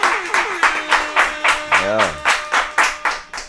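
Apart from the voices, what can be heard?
clapping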